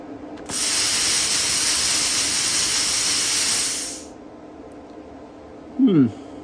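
A Bestarc 500DP plasma cutter blows cooling air through its nozzle, a loud steady hiss lasting about three and a half seconds before cutting off, followed by a brief voice.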